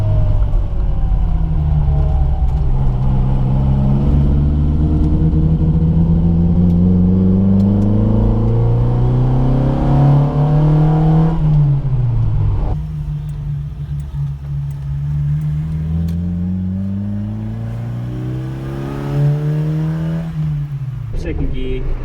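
A car fitted with Gem FAST electronic ignition accelerates hard through the gears, its engine note rising steadily then dropping at each shift, loud and close, with a voice talking over it.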